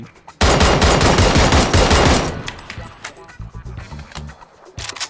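A QBU rifle in the PUBG video game fires in a loud, dense burst of gunfire, then the shooting fades into softer scattered game sounds.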